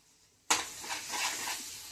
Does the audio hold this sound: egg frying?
yes